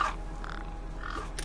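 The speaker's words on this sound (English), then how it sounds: "Damn birds!" A crow caws in the video game Beyond A Steel Sky, a few hoarse calls fairly faint and distant over a steady background hum.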